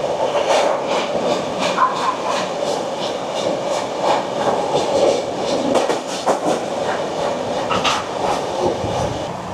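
Aboard the Sealdah–New Delhi Rajdhani Express as it runs through Tundla Junction, a steady rumble of the moving train carries repeated clickety-clack of wheels over rail joints, loud and continuous with no voices.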